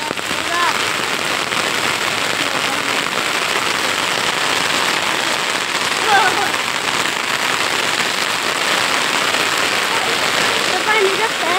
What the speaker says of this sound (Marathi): पाऊस येतोय बघा